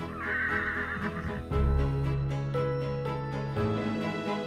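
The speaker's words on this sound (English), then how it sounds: "But when Ghost let out a little neigh," A horse whinnies loudly and close by on a ranch, a drawn-out neigh followed by lower snorting and nickering, with no voices present.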